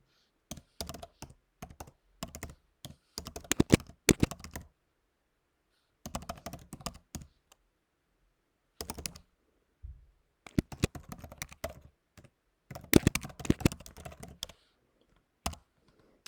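A file path typed on a computer keyboard: bursts of quick, crisp key clicks separated by pauses, close and clear with no voices over them.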